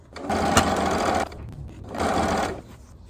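A sewing machine quilts a quilt in two loud, close bursts of rapid mechanical stitching, each lasting about a second, separated by a short pause.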